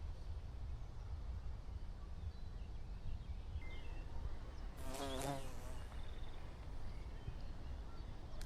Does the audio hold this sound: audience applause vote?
no